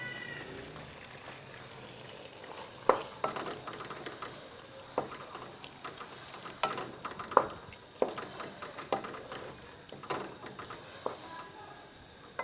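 Beef mince with chopped green chili is stirred and fried in a pan, giving a steady low sizzle broken by irregular scrapes and clacks of a spoon against the pan.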